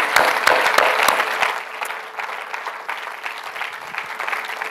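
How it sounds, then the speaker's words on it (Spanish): A church congregation breaks into applause during a sermon, a loud burst of clapping with sharp individual claps that quickly tapers to a softer, lingering patter. "Te voy a invitar a dar un aplauso."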